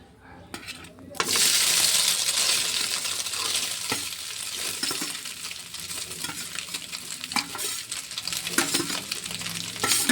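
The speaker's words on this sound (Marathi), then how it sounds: "थोडं तेल आला त्याच्यामध्ये, थोडं आपल्याला तेल त्याच्यात गरम होऊ द्यायचं आणि तळायचे आपल्याला सोयाबीन" Soybean chunks frying in oil in a kadhai give a close, loud sizzle that swells after a second, then a continuous bubbling hiss with repeated stirring scrapes and metallic clinks of a spoon against the pan.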